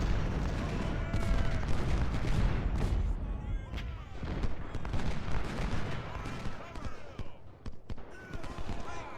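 Gunfire in the Civil War strategy game Ultimate General Civil War, set at the Battle of Antietam. Layers of musket volleys and booming shots crackle at mid distance with a dense, uneven rhythm, under a voice.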